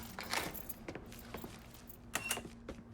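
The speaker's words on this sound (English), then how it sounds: "Keys are in the other room. Grab them so we can get the hell out of here." Keys jangle and clink in several short bursts in the Mafia III video game, quiet and close with a faint steady hum underneath.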